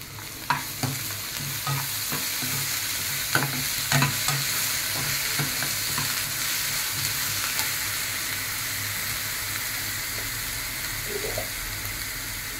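Onions frying in a pan with ginger, garlic, cumin and masala, stirred. A steady close sizzle runs throughout, broken by irregular scraping knocks of the spoon, with no voices.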